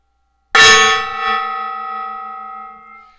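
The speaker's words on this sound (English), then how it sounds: "it came with a mallet, and I'm going to hit that. So I got a gong." A single strike of a mallet on a small decorative gong gives one loud, bright clang, then a long shimmering ring that slowly fades over about three seconds, alone and close.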